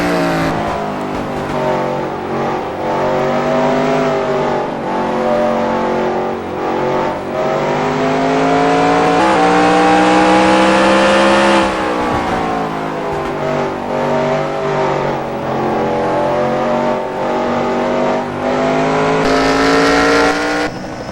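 Onboard a stock car at Heidelberg in a racing video game, the engine drones loudly and steadily through the run, its pitch climbing and dropping with gear changes and throttle, with the whine of passing cars mixed in.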